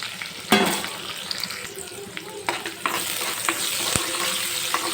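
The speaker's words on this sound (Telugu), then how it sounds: "ఆనియన్స్ అయితే ఫ్రై అయ్యే వరకు ఇలా వేయించుకోవాలి" Onions fry in a pan for chicken fry, giving a continuous close sizzle broken by several sharp clicks and scrapes of stirring. The sizzle grows louder toward the end, and there is no speech.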